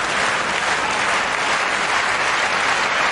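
A stadium crowd at the 2005 World Athletics Championships in Helsinki applauding a heptathlon high jump, a loud, dense, sustained wash of clapping throughout.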